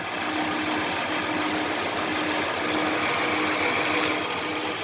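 A 5.7 Hemi V8 with an SRT cam idles at about 900 RPM, giving a steady, close, continuous engine rumble with an even loping pulse throughout, and no voices.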